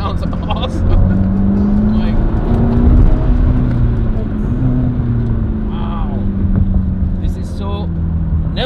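Mercedes-AMG GT Black Series with its V8 engine revving, a steady loud engine drone with rising pitch sweeps while driving to warm up the tires, heard close under people talking.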